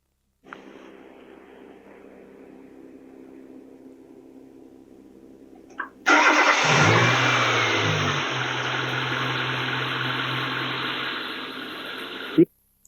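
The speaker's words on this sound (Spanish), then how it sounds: "El motor parecería estar en ralentí normal." A car engine runs with its IDL and E2 terminals bridged, first idling at a low steady hum, then roaring louder and higher for several seconds before cutting off with a thump.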